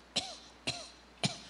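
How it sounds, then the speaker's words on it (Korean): Three sharp, evenly spaced coughs from one person, dry and close, with no talk around them. "평소와 다른 기침이 나올 거예요"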